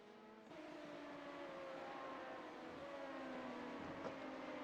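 Prototype race cars in iRacing sweep through Spoon Curve at Suzuka, a steady layered engine drone with rising and falling pitch from several cars, fairly loud and continuous with no talk.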